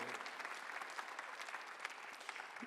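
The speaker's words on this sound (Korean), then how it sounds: "박수 한번 하셨어요." A church congregation applauds during a Sunday worship sermon: dense, steady clapping from many hands fills the whole stretch at moderate loudness, with no voices standing out.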